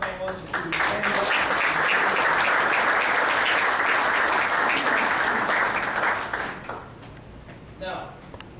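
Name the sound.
audience applauding the panelists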